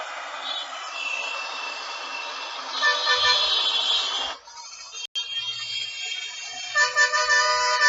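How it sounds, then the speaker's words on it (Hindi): Road traffic with car horns honking repeatedly, short and longer toots layered over vehicle noise, fairly close and loud, with a brief dropout midway before the horns resume. "अब हम सुनेंगे रोड ट्रैफिक की आवाज।"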